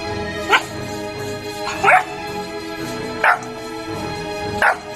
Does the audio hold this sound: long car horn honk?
no